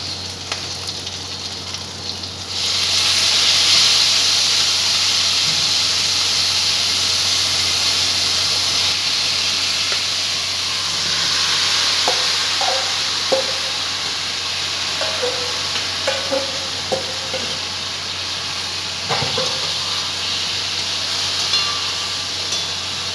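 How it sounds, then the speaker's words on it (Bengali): Chicken pieces braise in a hot pan with a steady broad sizzle and hiss, and sparse scrapes and taps from stirring come through close up, with no talking. "এইভাবে নেড়ে নেড়ে কষাবো, কষিয়ে তারপরে অল্প জল দেবো।"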